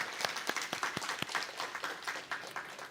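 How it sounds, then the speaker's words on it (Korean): Congregation applauding during a Sunday morning church service, a moderate crowd of scattered hand claps building into steady clapping with distinct sharp claps standing out, in a reverberant hall. "우리 다 같이 박수 한번 하도록 하겠습니다."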